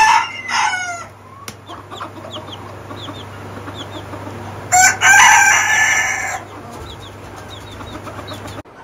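Ornamental chickens, including Brahmas, are kept on a farm. A rooster crows loudly nearby at the start and again midway, with scattered clucks and calls in between over a steady low hum.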